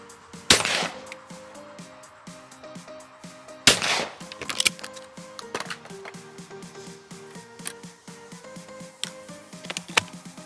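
A Fausti XF4 shotgun fires at clay targets outdoors: two sharp, loud shots a few seconds apart, followed by clicks and handling noises with a low background hum.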